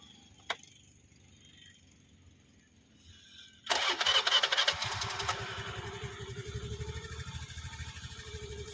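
A scooty scooter's engine cranks and catches after a quiet stretch with a single click, then settles into a steady, close idle.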